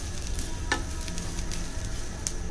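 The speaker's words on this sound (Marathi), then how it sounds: "सुक्या खोबऱ्याचा पण रंग बदलेपर्यंत आपल्याला परतायचा आहे. मोठ्या गॅसवरच करते आहे मी" Dried coconut sautés in a pan over medium-high heat, a soft continuous sizzle with a couple of light scrapes or clinks from stirring, heard alone.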